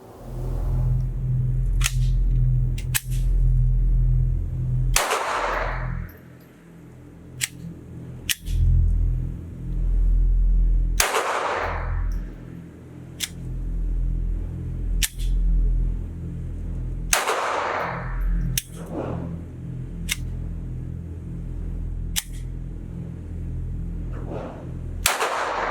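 A Taurus TX22 .22lr pistol firing Federal high-velocity lead ammunition outdoors: sharp, close single cracks spaced irregularly several seconds apart over a low rumbling background, some shots trailing into brief echoes.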